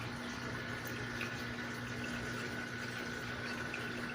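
Water runs steadily into a container being filled for betta fish breeding, a constant faint rushing with a low hum beneath and no pauses.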